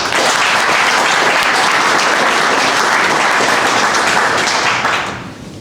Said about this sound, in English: let's hold the applause to the end